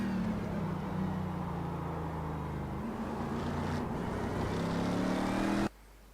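A race car engine drones steadily in the iRacing sim, its harmonic tones holding loud and smooth with slight pitch rises and falls, then cutting off abruptly near the end.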